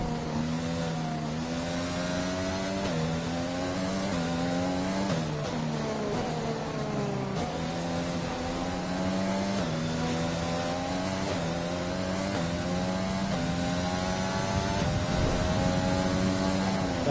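F1 car engine in F1 2020 during a rainy Dutch practice and qualifying session, a steady high-pitched whine that climbs and drops through repeated gear shifts, loud and continuous for the whole stretch with no talk.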